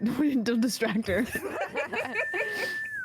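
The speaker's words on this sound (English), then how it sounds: "Oh, that's a whistle." A person whistles a long, steady, high tone near the end, following a stretch of close talking and laughter among people in a casual chat setting.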